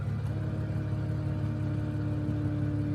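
Air pump inflating the side bolsters of a 2019 Infiniti Q60 seat, a steady low whirring hum that holds evenly throughout, with a faint higher tone riding on top inside the quiet cabin.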